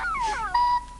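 A dog howls in a short, wavering wail that slides downward, then holds a steadier, louder tone before fading; close and alone.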